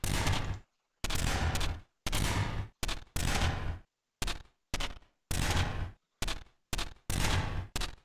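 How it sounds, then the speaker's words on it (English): Cannon turrets in the video game Neon Defense fire in loud, sharp bursts, about a dozen blasts in an uneven rhythm separated by brief silences. "But yeah, this is the power of cannons."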